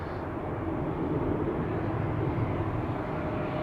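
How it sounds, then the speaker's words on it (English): An Embraer 195 E2 jet airliner departing Amsterdam Schiphol gives a steady, broad engine roar at moderate distance, continuous and without talk. "Another E2, Embraer 195."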